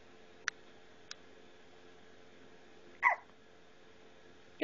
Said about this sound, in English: That was a hiccup.